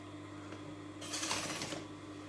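A sewing machine runs for about a second while joining the edges of a cushion cover, a faint rapid stitching chatter over a steady room hum, without any talking.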